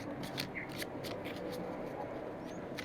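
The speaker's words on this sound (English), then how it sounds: "shuffle the cards once more for this." A soft, continuous riffling and flicking of cards being shuffled close up, faint and steady with a small click at the end.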